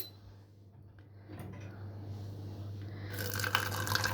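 Hot water pours over herbal tea leaves into a thermos, a soft, close trickle that swells into a louder filling rush toward the end, with no talk.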